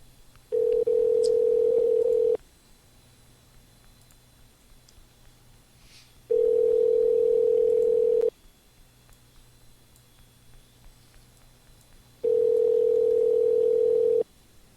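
Telephone ringback on an outgoing call while waiting for an answer: three long steady tones, each about two seconds, separated by roughly four-second gaps of near silence, clear and alone.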